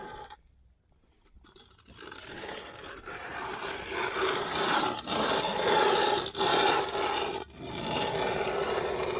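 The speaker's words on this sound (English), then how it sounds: "We'll just take the edge of the float, scrape up some cream, and lay it in there" After a quiet start, the edge of a concrete float scrapes up wet concrete cream on a DIY sidewalk, a close, gritty, rasping drag that sweeps repeatedly with short breaks between strokes.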